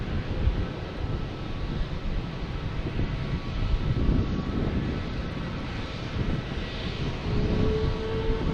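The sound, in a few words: airplane with special Continental Airlines livery at Logan Airport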